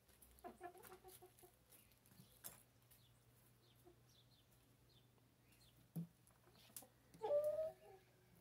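Grown young hens and a rooster cluck faintly in a quiet farmyard; scattered soft clucks are followed by a louder, longer call near the end.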